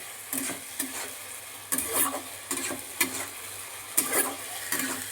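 Potatoes being sautéed with sour curd and spices in a pan, a spoon scraping and stirring in regular strokes over a soft steady sizzle, close and moderately quiet.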